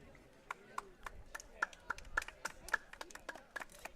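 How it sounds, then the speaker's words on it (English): Baseball fans at a Cape Cod League game clap in scattered, uneven bursts, heard thin and somewhat distant, with a voice talking faintly over the applause. "So some applause from the fans here"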